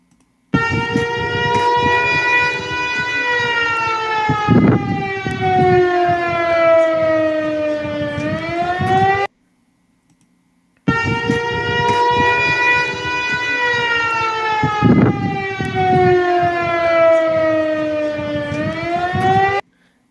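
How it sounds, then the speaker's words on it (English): Loud tsunami warning sirens wail, rising and falling in long sweeps, break off briefly, then start again, droning steadily with no voices. "They had tsunami warning sirens sounding earlier yesterday"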